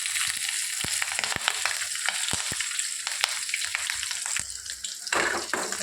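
Green chillies and cumin seeds frying in hot oil for buttermilk rasam, a dense close crackling sizzle with scattered sharp pops and a brief louder burst of spitting near the end, no talk.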